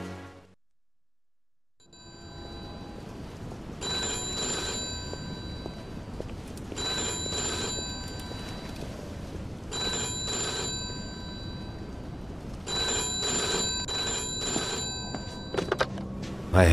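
A telephone ringing in the video game Mafia II, repeated bursts of bell rings separated by short pauses over a low room ambience, fairly clear and alone.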